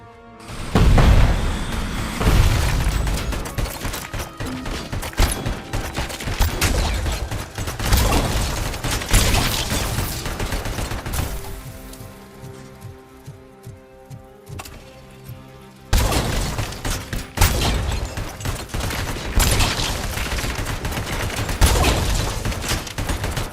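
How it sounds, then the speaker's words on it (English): Video game gunfire dominates, with a dense barrage of loud, heavy booming shots from a .50 caliber sniper rifle and surrounding weapons. Near-continuous blasts give way to a brief quieter lull, then the shooting resumes just as loud. "50 caliber sniper rifle"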